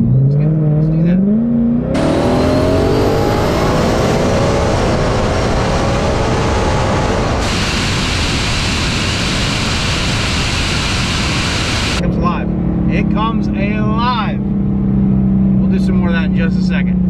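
Supercharged ESS G3X 2022 Mustang GT accelerating hard, a loud rising engine roar with supercharger whine building through gears, a brief easing between pulls, then settling into a lower rumble as a person talks over it near the end.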